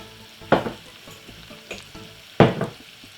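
Breadcrumb-coated fish hitting hot oil in a pan, two loud sizzling bursts about two seconds apart, each fading into a softer crackle, close by with no talking.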